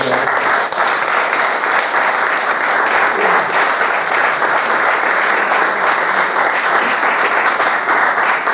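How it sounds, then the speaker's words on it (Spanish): Loud, dense applause from a lecture audience thanking the speakers after a talk on the Reconquista and the making of Spain, a sustained wash of many hands clapping at full strength that holds steady throughout. "si le damos un fuerte aplauso a nuestros conferenciantes"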